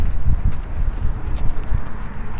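A horse's hooves thump in a steady, rhythmic pattern as it is lunged in circles, dull close footfalls over loud low rumbling noise, with no talking.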